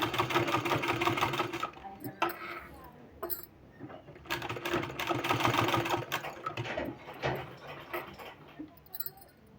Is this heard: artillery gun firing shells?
no